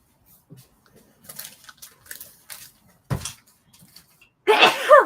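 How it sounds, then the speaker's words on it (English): A single sharp sneeze bursts out near the end, preceded by quiet rustling and small handling clicks. "Gesundheit. That allergy's bad."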